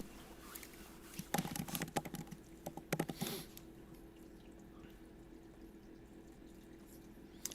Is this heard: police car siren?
no